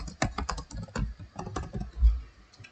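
Close, rapid keystrokes on a computer keyboard as Java code for an anagram-checking program is typed, with quick bursts of clacking separated by short pauses; no voices.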